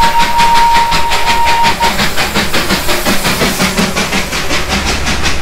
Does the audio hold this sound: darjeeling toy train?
yes